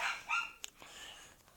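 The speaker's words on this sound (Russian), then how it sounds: "что-то собака лает" A dog barks somewhere off at a distance: a couple of sharp, high yelps followed by a fainter bark, fairly quiet, with no talking over it.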